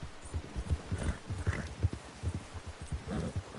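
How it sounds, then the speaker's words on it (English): Horse hooves clip-clopping in Red Dead Redemption 2, a steady rhythmic plodding of soft, low thuds at moderate volume with no talk over it. "Get that horse in line, Arthur."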